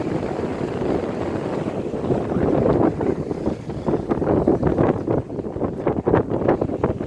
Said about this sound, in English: A little bit of a wind about now